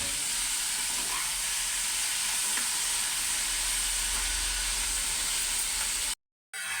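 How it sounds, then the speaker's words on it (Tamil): Tomato chutney ingredients sauté in a pan with a steady, dense sizzle and hiss that stays loud and even, broken only by a brief cut to silence near the end. "எல்லாத்தையும் போட்டு நல்லா வதக்கிக்கவும்"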